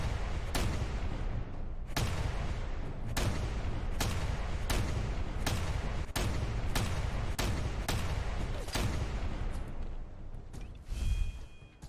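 Fallout 4 combat: booming grenade explosions and heavy gunfire go off in a rapid, irregular series of loud blasts with rumbling tails.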